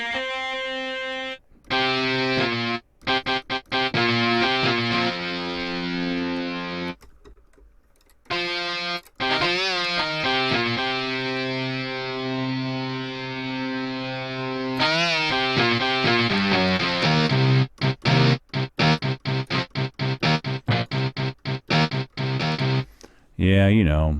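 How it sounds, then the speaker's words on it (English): Synthesized guitar patch with distortion from the Output Signal library, played as a run of sustained buzzy notes and short chopped phrases broken by brief silences. "This will be the guitar with a little bit of distortion."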